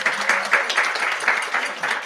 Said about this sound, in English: How about a big round of applause for everybody up here?